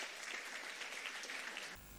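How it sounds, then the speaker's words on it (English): At a lecture series event, an audience gives a round of applause for a panelist being welcomed, a dense burst of clapping that cuts off sharply near the end. "Round of applause for her, please."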